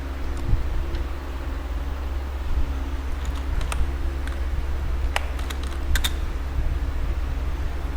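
Typing on a computer keyboard, scattered clicks and quick bursts of keystrokes over a steady low hum, fairly close and clear, with no talking.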